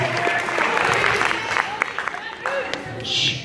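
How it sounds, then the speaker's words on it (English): A comedy-show audience applauds a teacher, Miss Chapman, with clapping mixed with voices and cheers, moderately loud and busy throughout. "Everybody give her a round of applause because this is the only teacher that could pull this on me."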